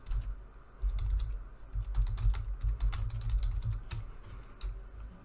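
Quick, uneven keystrokes on a computer keyboard typing an email subject line, close and clear with short bursts of clicks and brief pauses, with no talking.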